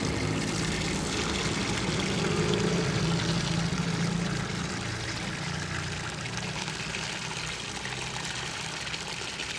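Water poured over a motorbike during a wash, a continuous rushing splash that stays fairly even and steady throughout, with no voices.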